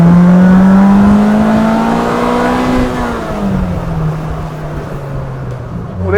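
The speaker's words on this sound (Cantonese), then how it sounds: "其實每次轉波，焗一聲咁樣嘅" A Polaris Slingshot, a three-wheeled car-motorcycle hybrid, accelerates hard in San Francisco. Its engine drone climbs steadily, then drops in pitch as it shifts gear with a soft pop, and it keeps pulling close and loud.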